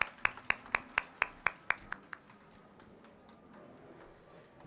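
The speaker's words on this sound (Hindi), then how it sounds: "आप अपनी जोरदार तालियों से मैम के शब्दों का स्वागत करें" An audience claps in a sharp, evenly spaced burst that fades out after about two seconds, greeting a speaker at a school foundation-stone ceremony in Dwarka, Delhi.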